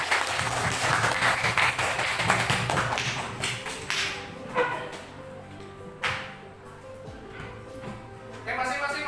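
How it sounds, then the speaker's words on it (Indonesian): Students in a classroom clap for a presenting group. The applause starts loud and dense, thins into scattered claps, and fades under a speaking voice. "tepuk tangan untuk kelompok 3"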